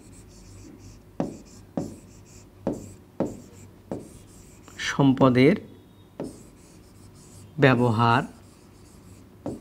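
Chalk or marker taps and scratches on a board during a fourth-grade science lesson, a series of short strokes followed by two longer scribbled passages, with a teacher's voice faintly present.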